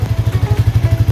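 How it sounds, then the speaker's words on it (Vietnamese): Suzuki GSX-S150 motorcycle with its stock exhaust idling up close, a loud, steady, rapid thumping pulse throughout. "Đây là tiếng bô xin ha, nghe âm thanh đã mà anh em"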